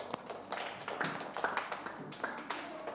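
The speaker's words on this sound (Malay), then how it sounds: "Beri tepukan kepada kumpulan Najmi." Faint scattered clapping from pupils in a classroom applauding a group, light uneven hand claps in a thin patter at a distance.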